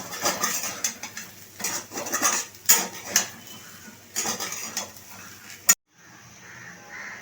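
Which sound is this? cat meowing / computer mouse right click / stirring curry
stirring curry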